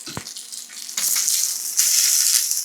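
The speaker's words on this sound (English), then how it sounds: "Alright, steak's working." A steak hitting a hot pan and searing, a loud steady hiss that swells sharply after a brief clunk and stays dense and close, with no one talking.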